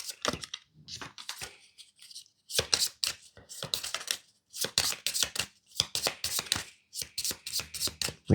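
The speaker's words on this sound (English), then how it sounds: "We shuffle and refill." A deck of cards from the Imperium Classics board game being shuffled by hand, with several bursts of crisp riffling and rapid card flicks separated by short pauses.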